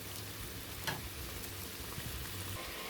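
Egg masala curry spices with chili powder fry in a pan, giving a faint, steady sizzle with occasional soft pops and stirring scrapes.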